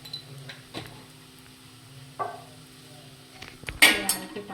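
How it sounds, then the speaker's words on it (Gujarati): A spoon scrapes and clinks intermittently against a pan while poha with garam masala is stirred in a home kitchen, a few sharp metallic taps and scrapes over a quiet background with faint sizzling. "આ રીતે પાછું હલાવીશું"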